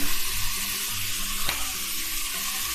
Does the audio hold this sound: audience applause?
no